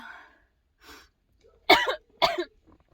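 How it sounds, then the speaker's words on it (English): Two sharp, harsh coughs close by from choking on saliva, following a faint throat noise and a short breath, with a choked, spluttering quality. "just choked on my own saliva"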